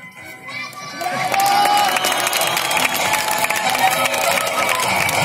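Audience at a castle fairy-tale show at Landštejn bursts into loud, sustained applause and cheering that swells after a moment and keeps going, with children shouting among the crowd.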